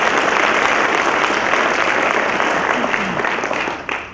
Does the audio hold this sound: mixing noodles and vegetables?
no